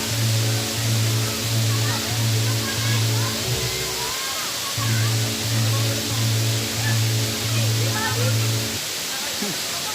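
Bolinao Falls pours as a steady broadband roar of rushing water, loud and continuous, with voices talking and a repeating tonal sound over it.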